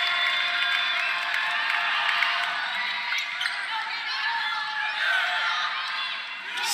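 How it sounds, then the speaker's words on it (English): A home crowd cheers at a Clemson women's volleyball match against Western Michigan, a steady, dense roar of voices and shouts that swells and holds throughout, with squeaks and bounces of play faintly beneath. "Home crowd coming to life,"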